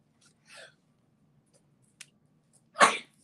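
A single sharp, explosive sneeze bursts out close and loud near the end, preceded by a quick intake of breath and a faint tap in an otherwise quiet room.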